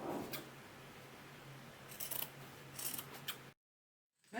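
Scissors trim excess fabric from a PVC crystal and lace pouch with a few faint, close snips and soft crunches in a quiet room, then the sound drops to silence.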